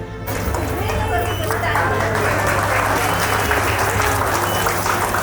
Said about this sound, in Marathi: दोघांसाठी जोरदार टाळ्या.